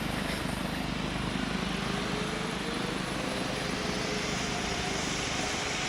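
A Roblox aircraft in Pilot Training Flight Simulator rolling for takeoff from a runway, its engines producing a loud, continuous, broadband roar that stays steady throughout, with no voices.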